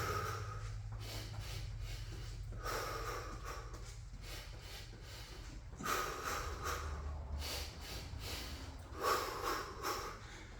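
Heavy, phased breathing and snorting exhales during a core-circles exercise with a ball in a home garage workout, repeated breaths at a steady rhythm over a low background hum.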